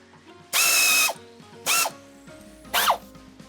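A ratchet works the bolts on a Tarter rotary tiller's tine bar assembly in three bursts of rapid clicking, the first longest, then two shorter ones, close and loud, with a quiet hum between them.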